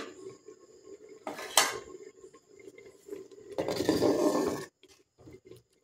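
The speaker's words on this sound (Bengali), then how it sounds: "এবারে এটাই আমি ঢাকা লাগিয়ে দেব" Metal lid set on a pot of payesh rice, a sharp close clank followed by a longer rattling scrape of metal against metal, then quiet.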